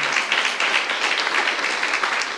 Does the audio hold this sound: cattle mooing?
no